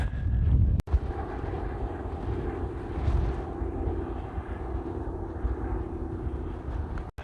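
An airplane drones overhead in a broad, sustained roar, with gusts of wind buffeting the microphone at the start.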